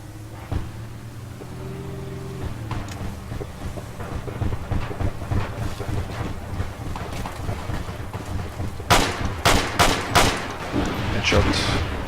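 Rapid gunfire from a video game shooter, with a bass-heavy engine rumble under most of the stretch and a burst of loud, sharp shots crackling close near the end.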